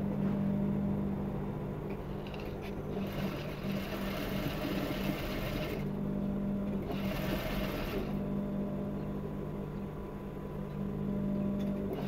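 A sewing machine stitching down pinned fabric for button loops on a wedding-dress corset, running in a steady, close mechanical whir with brief slowdowns and pauses.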